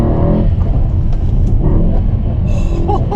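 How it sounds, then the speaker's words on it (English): E63 car engine revving hard while accelerating on an open road, a loud continuous throaty rumble heard close from inside the car. "So, I think we've got some open road. Let's let the E63 rip,"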